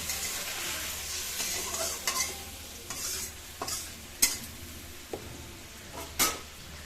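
Potatoes simmer in a pan with spices and a little water for a spicy rohu fish and potato curry, giving a soft steady sizzle broken by several sharp spoon scrapes and clinks, with no talk.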